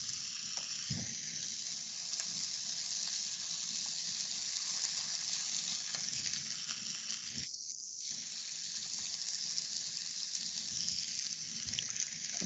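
Chicken pieces spread out in a hot pan, giving a steady, close broadband sizzle and frying hiss that continues without pause, with a brief louder burst partway through and no talking.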